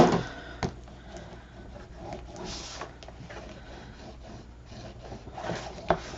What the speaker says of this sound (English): And then we're just going to burnish that down.